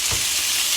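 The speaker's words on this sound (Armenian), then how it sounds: "մինչև կոտլետը տապակվի երկրորդ երեսից" A cutlet fries in hot fat with a steady, close, bright sizzle and crackle that fills the short moment without pause or talking.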